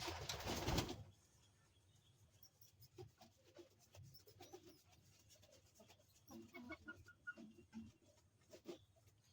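Domestic pigeons, including a black hen and a red cock kept alongside two pairs of young squabs, give soft, low repeated coos that come and go at close range after a brief loud rustling burst at the start, with no talking.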